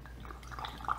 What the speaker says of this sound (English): Hear it sucking in the oxygen through these two holes.